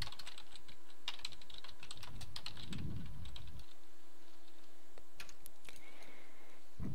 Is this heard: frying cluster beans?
no